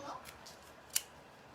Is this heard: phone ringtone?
no